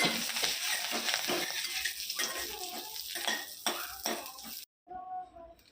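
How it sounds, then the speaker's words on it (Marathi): Curry leaves fry in a little oil in a pan, giving a crackling sizzle with stirring and scraping of utensils. The sizzle fades in and out before a brief cut near the end. "अगदी तळून घ्यायचा कढीपत्ता"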